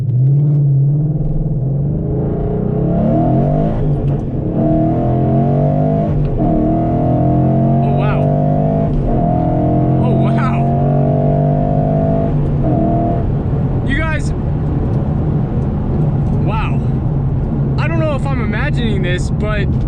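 A 2014 Mustang GT V8 fitted with a Boss 302 intake manifold pulls hard in third gear, a loud, steady engine drone with rising harmonics filling the cabin over the whole stretch, with brief speech and clicks late on.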